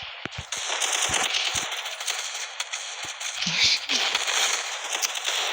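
Rapid automatic gunfire from the battle-royale video game Free Fire during a training-mode match, dense crackling bursts running steadily and loud throughout, with a few brief low thumps mixed in.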